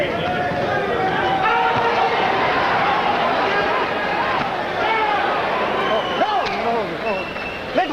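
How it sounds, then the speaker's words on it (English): A boxing arena crowd during round four of the Julio Cesar Chavez vs Sammy Fuentes fight, a dense roar of voices rising into a rhythmic chant for Chavez, loud and continuous throughout with commentary-like talk layered over it. "Crowd starting to chant Chavez,"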